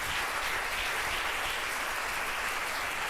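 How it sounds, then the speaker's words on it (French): A church congregation applauding the name of Jesus Christ, a dense, steady wash of clapping that fills the room evenly with no pauses, fairly distant. "Et on acclame le nom de Jésus-Christ."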